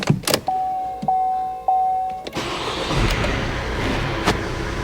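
Vauxhall Mokka 1.6 CDTI diesel engine after a cam chain rattle fix, chimes and clicks first, then the starter cranking and the engine catching into a steady close idle.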